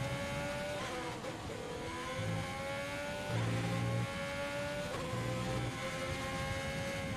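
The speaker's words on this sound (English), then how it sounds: "Also sounds like the car's bottoming out a lot." In a racing video game, a race car's engine drones steadily and fairly loudly at high revs, with shifts in pitch and brief bumps that could be the car bottoming out.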